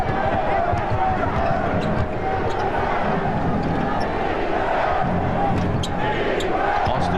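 Basketball dribbling in a 2000 NBA Finals Game 1 between the Pacers and Lakers, steady bounces under a constant arena crowd roar while a commentator talks throughout.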